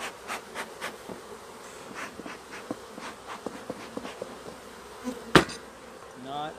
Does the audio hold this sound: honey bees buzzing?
yes